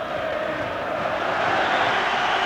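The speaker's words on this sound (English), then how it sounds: "And the applause you hear is for the departing figure of John Robertson" Football crowd at a Hibs versus Hearts match in 1990 applauding departing player John Robertson, a broad sustained roar of clapping and crowd noise from a distance in a stadium.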